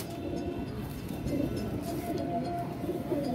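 Soft, low pigeon coos repeat in a steady murmur, close by, with faint rustling in the background.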